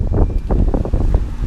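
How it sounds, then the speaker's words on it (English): Strong wind blusters against the microphone outdoors among running HVAC units, a loud, rough low rumble that swells and fades, with no talk. "It's a pretty windy day"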